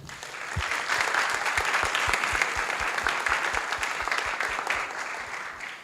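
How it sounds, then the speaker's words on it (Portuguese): A conference audience on drug use and legalization gives the panel steady, dense applause. The clapping stays loud and even for about six seconds, then starts to taper at the end. "Por gentileza, uma salva de palmas na mesa."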